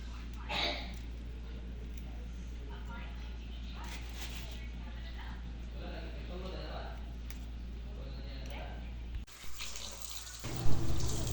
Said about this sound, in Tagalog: Ayan, hinugasan ko na ng mabuti ang mga gulay guys. Yung talbos ng kamote ay hinugasan ko ng mabuti.